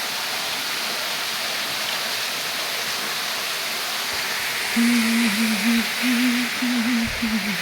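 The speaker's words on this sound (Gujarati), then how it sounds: "સ્વિમિંગ પુલ ચોખ્ખો કરવા માટે થઈને પાણી છોડ્યું છે." A steady rushing gush of water released to clean a swimming pool pours continuously, loud and close, with a faint tonal hum rising near the end.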